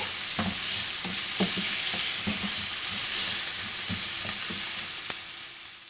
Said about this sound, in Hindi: प्याज को थोड़ी देर हम लाइट गोल्डन होने तक फ्राई करेंगे